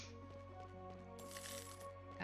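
Coins are picked up in the video game Chained Echoes, a bright metallic jingle of short chimes over a steady tonal game music bed, with a denser shimmering burst midway and a final clink, no talk.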